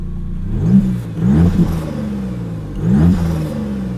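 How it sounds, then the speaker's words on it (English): The Maserati MC20's 3-liter twin-turbo engine revs in short bursts from the driver's seat, rising whooshing turbo sounds over a low engine drone, with about three swells in a few seconds. "Lots of turbo noises from that 3-liter twin turbo."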